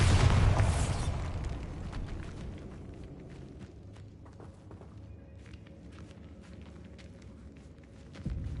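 The Bombarda blasting spell in Hogwarts Legacy lands as a loud, booming explosion at the start, then fades into a low rumble with scattered light clatter and steps, and another thump comes near the end.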